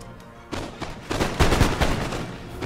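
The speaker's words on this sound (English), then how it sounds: "Get fire, please. And fire. And fire." Musket volleys from line infantry in Empire: Total War, a game set in the 18th-century Road to Independence campaign: several loud, rough bursts of gunfire crackle and boom in quick succession, without talk.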